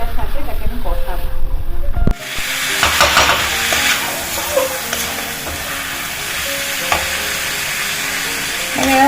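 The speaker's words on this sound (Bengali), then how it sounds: "চিকেনটা দিয়ে এবার কিন্তু এটাকে ভালো করে কষাবো, মশলাটার সাথে, পেঁয়াজ রসুনটার সাথে এটাকে আমি কষাবো।" Chicken pieces sizzle and fry in a pan with masala, onion and garlic for Murshidabadi murgh masala. A loud burst of sizzling comes in after a brief pause, then steady frying hiss with occasional stirring scrapes continues close up.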